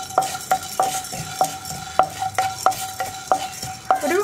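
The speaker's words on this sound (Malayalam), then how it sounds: "ഈ കുരുമുളകും പെരിഞ്ചീരകവും ഒന്ന് ചൂടായി വരട്ടെ." Black pepper and fennel seeds are stirred in a pan over a low burner, a metal spoon scraping and clinking against it in a steady rhythm of sharp taps, close and clear, with no voices.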